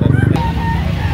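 Close rooster crow at a gamecock sale, a short loud call trailing off over low crowd noise and rumble.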